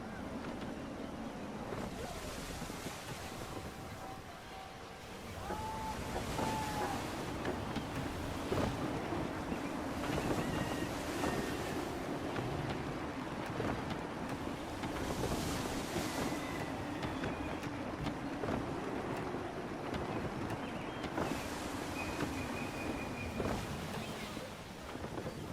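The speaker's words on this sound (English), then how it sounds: "Wind looks to be shifting. Stay alert, Connor. Gusty winds can be difficult to manage." Gusty wind and waves at sea in Assassin's Creed 3 heard from aboard a sailing ship, a continuous roar of wind and surf that builds after a few seconds, with faint speech now and then.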